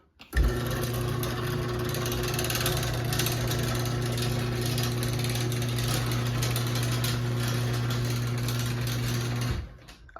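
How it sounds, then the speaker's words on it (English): A half-horsepower LiftMaster residential garage door opener on a long I-beam rail runs the door closed, a steady loud motor hum with chain-drive whine lasting about nine seconds before stopping abruptly, heard alone. "we'll run this back down"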